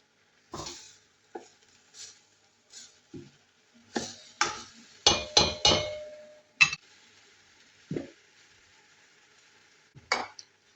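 Bony lamb pieces sauté in a hot pan with intermittent sizzling bursts and clinks of a utensil stirring, separated by short pauses.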